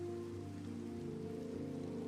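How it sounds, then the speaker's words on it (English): Rain falls in Minecraft as a soft, steady hiss with a low tonal hum beneath it, faint and continuous with no voices. "well, it's raining."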